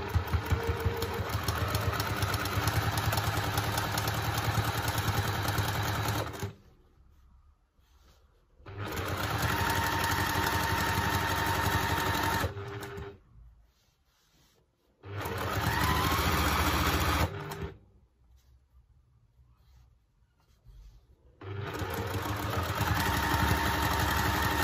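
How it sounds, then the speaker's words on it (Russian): A sewing machine stitches binding onto a patchwork lunch mat in several steady, close bursts of whirring, each separated by a few seconds of quiet. "Вы шьете не торопясь и следите за ходом вашей лапки."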